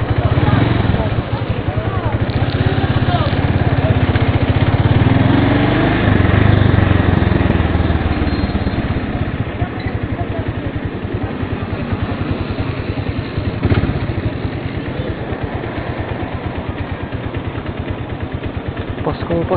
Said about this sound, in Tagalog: Motor dito ah!